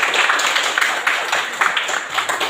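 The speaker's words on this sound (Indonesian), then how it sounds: "Kita berikan tepuk tangan." A small group claps steadily during a coaching session, a dense, even patter of hands that carries on without a break and with no voice on top.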